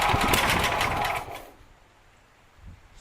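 The engine of a Sears Suburban garden tractor, set at half throttle and full choke, chugs loudly for about a second and a half, then dies away into quiet.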